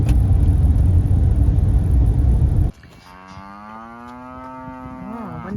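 Cattle moo in the hills on an early morning while being sorted, a long, near, drawn-out low bellow following the sudden cut-off of a loud engine rumble, with no talking.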